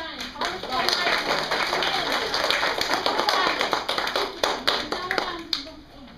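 Clapping from a small gathering at a sing-along, dense rapid handclaps at close range that build, then thin out into a few scattered claps before ending.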